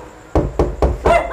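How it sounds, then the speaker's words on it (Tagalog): Four sharp knocks on a door, evenly spaced, close and loud, with no talk over them. "may kumatok"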